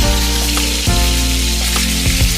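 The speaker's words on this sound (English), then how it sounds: "we're going to use the same oil to sort of braise our vegetables in" Vegetables sizzle in the same oil used to sear a pot roast, a loud close steady frying hiss with a couple of brief stirring bumps and no voices.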